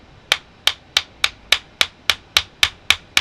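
Sharp, crisp taps repeat at a steady, even rhythm, about ten in a row close by, as a tool is struck to splatter dark crumb cake ink onto a paper card.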